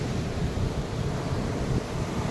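Ocean waves at Marina Beach, Chennai, make a steady, loud broadband roar of surf mixed with wind buffeting the microphone, with no clear separate breaks.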